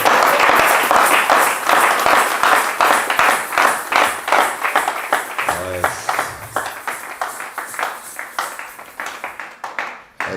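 A church congregation breaks into sustained applause for the Holy Spirit, loud dense clapping that gradually thins into scattered rhythmic claps toward the end, with voices mixed in.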